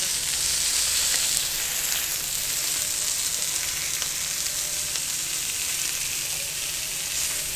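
Fish fries on a flat iron tawa, making a continuous even sizzle that stays close and moderately quiet throughout, alone without talk.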